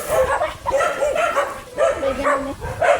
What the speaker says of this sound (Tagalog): Sumagot ang aso